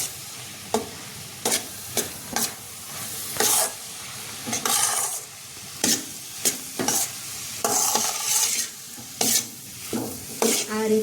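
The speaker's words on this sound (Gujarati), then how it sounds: "હવે બરાબર હલાવીને મિક્સ કરી લેવાની રહેશે." A spoon stirs traditional Gujarati lapsi in a pot, scraping in repeated short strokes against the metal over a soft frying sizzle, close and clear with no talking.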